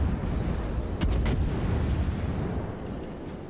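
Naval shells firing in the video game World of Warships, heavy booming salvos rolling into a dense, rumbling roar with a couple of sharp cracks near the start, continuous and loud.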